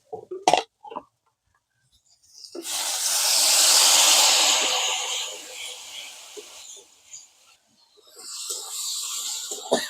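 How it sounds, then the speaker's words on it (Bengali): Water is added to frying spices: a loud burst of hissing sizzle erupts after a few clatters, swelling then slowly fading to a softer crackle, with another sizzle rising near the end. "এবার দিয়ে দেবো জল"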